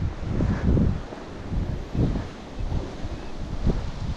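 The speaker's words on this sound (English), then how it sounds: "Windy." Gusty wind buffeting the microphone in low rumbling surges, rising and falling every second or so, with no voices.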